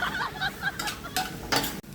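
Pinapaitan ingredients sizzle in a frying pan with a constant crackling hiss, broken by a few utensil scrapes and clinks close by.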